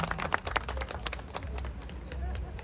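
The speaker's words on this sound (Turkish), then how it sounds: "Evet alkışlar böyle olmalıydı" A crowd claps at an off-road race awards ceremony in Sapanca, with busy, continuous applause mixed with crowd murmur and some speech.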